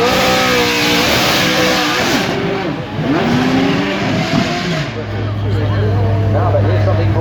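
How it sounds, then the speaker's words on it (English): A Dallara Spider supercar roars past at the Goodwood Festival of Speed, its engine loud and close, revving and shifting through gears with a steady low drone at the end, while a commentator talks over it. "This is the Dallara, but it's the Spider."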